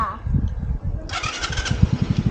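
A motorcycle engine starts up outdoors, a cranking, pulsing mechanical rumble that catches and settles into a rapid low putter, close and fairly loud, with people talking over it.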